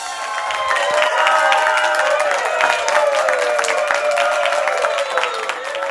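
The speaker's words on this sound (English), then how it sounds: "Let's give one big round of applause for our winner in this category" Audience applause and cheering at an engaging virtual meetings awards event, greeting a category winner; a dense, steady wash of clapping with brief cheers that holds loud for about six seconds.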